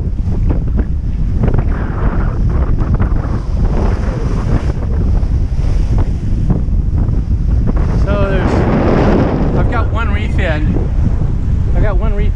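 Strong wind buffets the microphone continuously aboard a sailboat making over 6 knots in about 20 knots of wind on a blustery day, with rushing water and waves beneath, loud and steady throughout.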